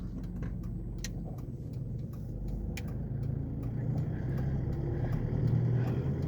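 A 2012 Isuzu KB300 LX D-Teq diesel pickup drives along with a steady low engine drone and rumbling road noise from inside the cab, close and continuous, gradually building slightly.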